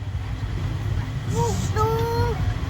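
A young child imitates a car with the voice, making a couple of short humming, rising and falling tones over a steady low background rumble.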